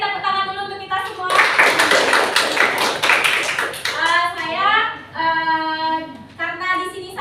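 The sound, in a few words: audience applause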